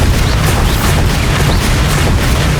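A Bombarda explosive spell goes off in Hogwarts Legacy on PC, a loud, dense rumbling blast that roars continuously without letup.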